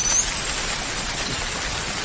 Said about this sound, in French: La pluie qui tombe sur la toile de tente au petit matin.